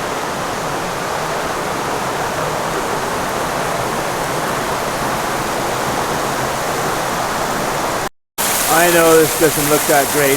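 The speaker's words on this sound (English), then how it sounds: "but another little waterfall, internal waterfall in the cave here" Small internal waterfall inside Cueva del Choco cave in Gambita, Colombia, a steady broadband rush of falling water that fills the space for about eight seconds before a brief cut, then a voice talks over it.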